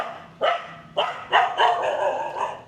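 A dog barks four times outdoors in Siem Reap, Cambodia, sharp close woofs spaced about half a second apart, the last trailing into a longer drawn-out bark.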